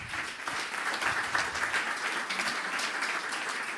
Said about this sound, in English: I'd like to have a last round of applause for our 2 speakers.